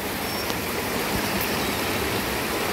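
A river in spate rushes past near a suspension bridge and park, a loud, dense, unbroken roar of flowing water with no voices over it.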